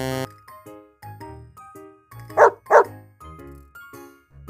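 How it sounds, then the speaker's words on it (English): Two loud, close dog barks in quick succession stand out in the middle, set against soft musical background tones. "Wow, it's a dog."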